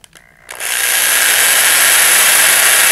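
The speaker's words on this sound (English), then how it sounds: "So let me drill a hole right here." Power drill boring a hole just above a metal engine hook, a brief bit of handling and then a loud, steady high-pitched whine that starts at half a second and holds to the end, close by with no talk.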